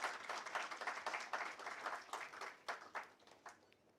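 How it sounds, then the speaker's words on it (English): Audience applause at an HR conclave on learning and development in New Delhi, a dense patter of claps that fades and thins into scattered individual claps toward the end. "Please give a round of applause for Ms."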